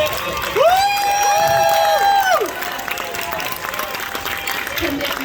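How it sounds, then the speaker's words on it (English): Film premiere Q&A audience, a loud drawn-out whoop and cheering rising over crowd noise and applause, then easing into a softer, mixed murmur of the crowd. "Xavier, stand up so we can clap for you, please"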